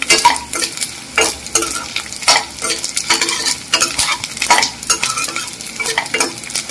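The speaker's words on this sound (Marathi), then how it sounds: "अजून थोडासा डिंक तळून घेऊया आपण" Edible gum frying in hot oil in a home kitchen, heard as repeated bursts of crackling sizzle and stirring scrapes in an uneven rhythm, close and moderately loud, with no talking.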